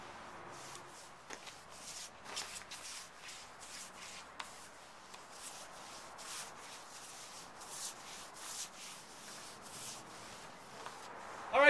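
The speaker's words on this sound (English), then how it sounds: "Just applying the sealer and the stain." A brush or rag spreads sealer and stain over a wooden picnic table in soft, rhythmic rubbing strokes, close and faint, with no talk.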